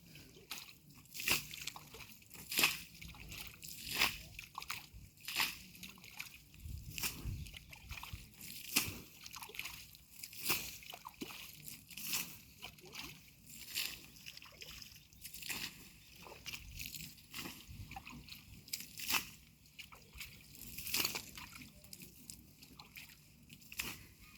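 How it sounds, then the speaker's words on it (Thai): Water trickles and sloshes faintly in a quiet indoor setting, running in soft, uneven bursts with small splashes and drips across the whole stretch. "น้ำไหลค่อยเลย"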